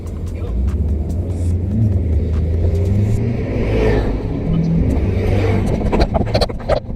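A Porsche supercar rumbles and revs as it drives by, a loud, close engine roar rising and falling, with a person speaking over it.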